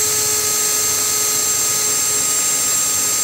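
A cordless drill spins a defective Masterbuilt Gravity Series charcoal grill rotisserie collar like a lathe while a sanding block presses against it, giving a steady, loud, continuous whir with a faint high whine throughout.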